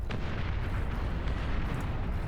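Cannons of a bulwark fire in the real-time strategy game Beyond All Reason, a dense, continuous rumble of heavy booms and blasts packed close together and loud throughout, with no voices.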